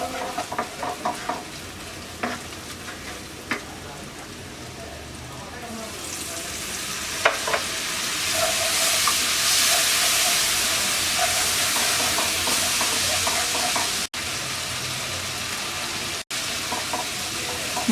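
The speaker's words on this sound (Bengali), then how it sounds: "এবার অল্প একটু পানি দিয়ে মশলাটা কষিয়ে নেব।" Spice paste of turmeric, coriander and roasted cumin powder frying with a splash of water, stirred in a pan for a Bengali hilsa head and pui shak dish; scraping spoon strokes at first, then a steady loud sizzle and steam hiss after the water goes in.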